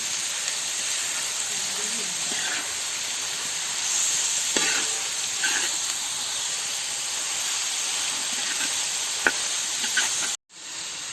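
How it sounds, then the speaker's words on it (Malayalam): Finely chopped onions sizzle in a hot pan for a Kerala-style chicken curry, with a steady, loud frying hiss and occasional scrapes as they are stirred. "നന്നായി ചെറുതായി മുറിക്കിയ സവാളയാണ് ആഡ് ചെയ്ത് കൊടുക്കുന്നത്. ഇളക്കി കൊടുക്കാം."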